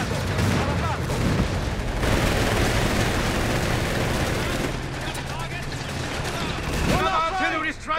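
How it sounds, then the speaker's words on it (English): A dense, continuous barrage of gunfire, machine-gun bursts and booming artillery in a Company of Heroes 3 battle at Al Alamein in North Africa, loud and close, with shouted voices mixed in throughout. "Artillery strike incoming!"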